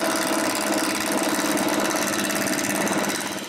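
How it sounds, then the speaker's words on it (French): A wood lathe spins a glued wood blank to turn it round, giving a steady, loud, continuous whirring drone with a fast rhythmic flutter that holds evenly throughout and fades slightly at the end, with no talk. "je tourne le bout de chaîne un peu plus rond"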